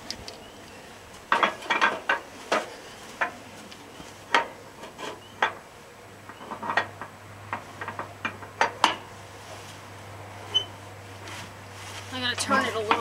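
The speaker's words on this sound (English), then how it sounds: "Okay, I'm going to turn the engine." Hand-turning the engine of a 1948 Massey Harris Pony tractor after WD-40 has been applied, giving a series of separate metallic clicks and clunks at irregular intervals, close by, with a steady low hum underneath.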